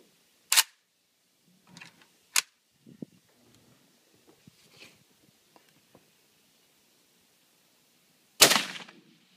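Kalashnikov rifle shots fired outdoors: three sharp, loud reports spaced a couple of seconds apart, with faint clicks and handling noises in between.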